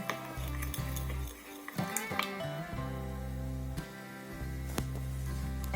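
A spoon stirs sunflower oil into a soy sauce mixture in a bowl, making repeated light clinks and scrapes against the sides over a steady low background hum.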